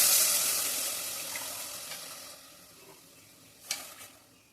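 Coconut milk poured into a frying pan of well-sautéed ingredients for coconut milk rice, setting off a bright sizzle that fades slowly while it is stirred, with a small clink or splash near the end.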